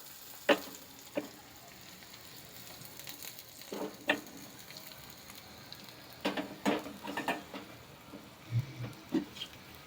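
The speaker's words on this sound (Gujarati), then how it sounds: "જો ફ્રેન્ડ્સ આ રાઈ આપણી ફૂટવા આવી છે." Mustard seeds sputter and pop in hot oil being tempered for khandvi, with sharp scattered crackles and small bursts over a quiet sizzle, close and fairly faint.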